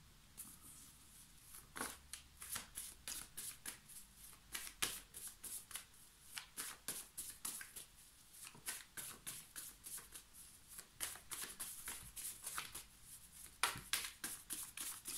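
Tarot cards being shuffled by hand, a long run of quick riffling flicks and soft slaps in uneven bursts, close but quiet, with no talking.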